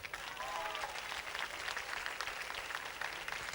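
Applause from a live concert audience in Sonnino, a continuous crackle of many hands clapping at moderate distance, with some crowd voices mixed in.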